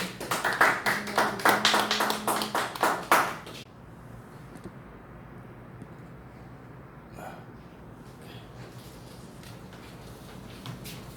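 An audience at a church mission sermon claps to welcome a guest speaker, a burst of rhythmic clapping for about three seconds that stops abruptly, leaving a quiet room with faint background noise.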